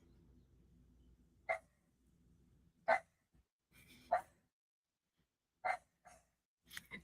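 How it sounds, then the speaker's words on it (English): A dog barks outdoors at a distance, single sharp barks spaced a second or more apart, with a low rumble between them and no talk over it. "I don't know if you can hear the dog out there."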